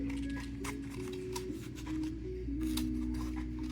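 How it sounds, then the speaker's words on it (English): Fabric scissors snip through paper in a quick run of short crisp cuts, close up, over a steady low hum in the background. "you might get yelled at if someone else cares that you're cutting paper with your fabric scissors"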